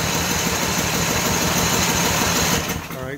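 A Simplicity snow blower engine cranks and sputters in a steady, loud, rough chugging as it is started without full choke, then dies away near the end.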